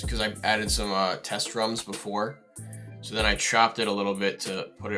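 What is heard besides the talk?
No distinct noise like a dog, phone or traffic.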